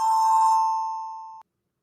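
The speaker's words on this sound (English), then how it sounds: "Right, that's the bell." A single electronic bell tone rings out clearly, holding a steady pitch with bright overtones before fading out after about a second and a half, followed by silence.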